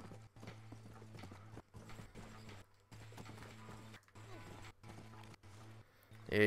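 Rhythmic clip-clop of horse hooves in Red Dead Redemption, a steady trotting beat with a low hum underneath, broken by short gaps, ending in a sudden louder burst.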